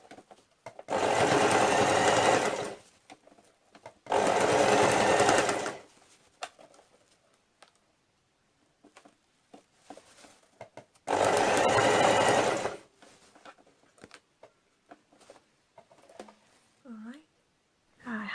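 Sewing machine forcing thick bustle skirt fabric under the needle, running in three loud, steady bursts of a few seconds each separated by quiet pauses, with faint handling and soft murmuring between runs.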